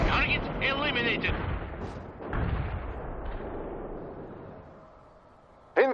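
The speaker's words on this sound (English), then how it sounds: "Incoming artillery!" Heavy artillery fire in the video game World in Conflict, booming impacts and rumbling blasts mixed with radio chatter and voices, fading toward the end before a sharp final burst.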